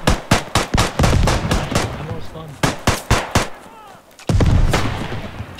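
A grenade launcher fires in Beyond The Wire, a World War I shooter, on the Chateau-Thierry map: a rapid string of loud, sharp blasts, a brief lull, then another volley before a quiet gap and a sustained rumble.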